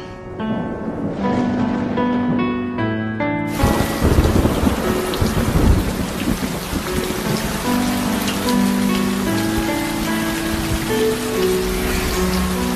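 Heavy rain pours down in a dense, loud, continuous roar with deep thunder rumbling through it, while music plays over the first few seconds before the storm takes over.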